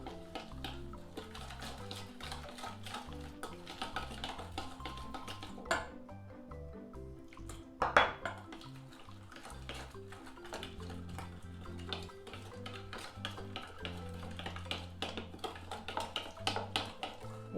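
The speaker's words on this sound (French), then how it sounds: "le concentré de tomate, et le sel. Donc tout ça, je vais le mélanger." A utensil stirs tomato paste and salt together in a bowl, giving faint, irregular clicks and scrapes with a few sharper taps against the bowl, close and quiet with no talking.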